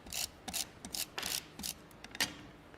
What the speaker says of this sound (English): I'm just going to use my dotted tape pen to put these on here